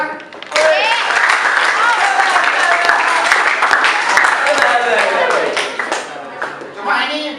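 A classroom group claps for a score in a lesson, dense clapping mixed with chatter and cheering voices that runs loud and steady for several seconds before tapering.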